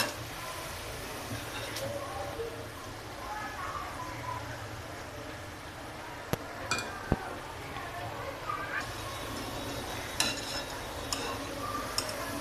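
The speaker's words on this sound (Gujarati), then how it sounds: "આ રીતે તેલને મીડિયમ ગરમ કરી અને આપણે મૂઠડી તળી લેવાની" Methi muthadi, fenugreek dumplings, fry in medium-hot oil over a medium gas flame with a steady, soft, even sizzle. A few faint utensil clinks and taps come through near the middle and end.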